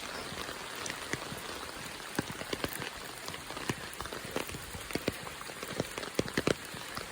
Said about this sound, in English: now it's raining even harder.